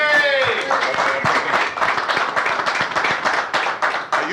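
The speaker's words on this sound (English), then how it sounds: "So let's give them a round of applause." Audience at a reunion event applauds the organizers, a dense, steady burst of many hands clapping close and loud throughout, with a brief voice or tone at the start.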